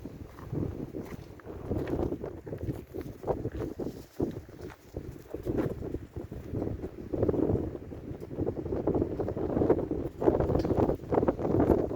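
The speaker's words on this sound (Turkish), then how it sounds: "Rüzgar var biraz soğuk hava burada." Gusty, cold wind outdoors in Yıldız village, Dereli, buffets the microphone in uneven, rumbling surges, with occasional knocks and creaks in the background.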